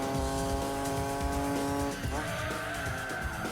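A 390HP Nissan Skyline in Gran Turismo 2 drives with a loud, sustained engine drone that holds steady, then shifts pitch partway through as it changes gear, with tire noise underneath.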